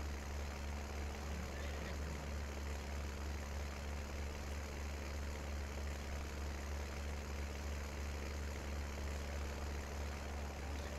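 Tractor engine in Farming Simulator 19 idling at a low, constant rumble. It sounds steady and unchanging throughout, fairly faint and alone, with no talk.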